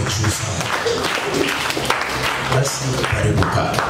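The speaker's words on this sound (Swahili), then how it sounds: "kama unampenda Mungu mpigie makofi ya juu sana" Church congregation clapping loudly during a worship service, a dense ragged burst of hand claps with voices mixed in and a speaker talking over it, close and steady for the whole stretch.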